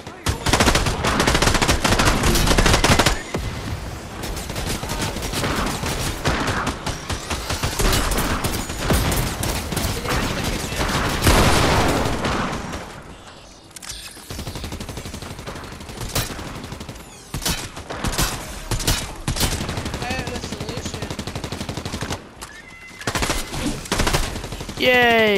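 An automated turret in the Fortnite video game fires long rattling bursts of rapid gunfire, loud and sustained, broken by brief pauses and scattered shots.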